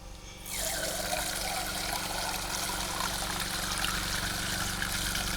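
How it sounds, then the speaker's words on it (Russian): Water streams from a water barrel into a mug, starting abruptly and then running as a steady, close trickle that fills the moment, with no talking. "Пойду еще водички наберу."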